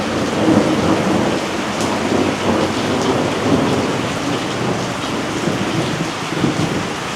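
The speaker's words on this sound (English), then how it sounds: "The rain has arrived with a big storm that's just gone overhead." Heavy rain pours steadily with rumbling thunder during a big storm passing overhead, a dense, loud wash of downpour with no voices.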